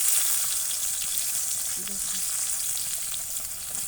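Eggplant pieces frying in hot oil for bengun bharta, a steady close sizzle and crackle running throughout, with a brief faint low clatter of the pieces being turned midway.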